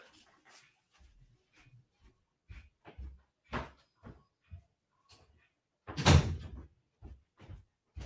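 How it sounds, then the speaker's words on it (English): An indoor door is pulled shut with one loud thump, preceded by a series of footsteps and small handling knocks in a quiet room. "Let me go shut the door."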